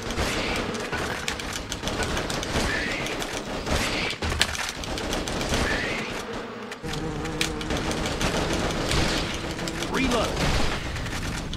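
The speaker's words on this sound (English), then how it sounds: "Somebody get that machine gun over there." Machine gun fire in the video game Attack of the Movies 3D, dense continuous bursts of shots and mechanical clatter running throughout, with players talking over the action.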